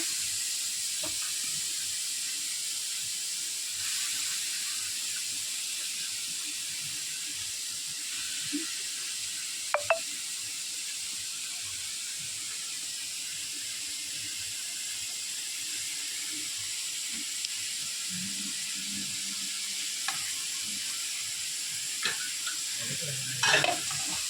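A mixture cooking in hot oil with curry leaves gives off a steady broadband sizzle and hiss throughout, with a few brief clinks of a stirring utensil and no voices.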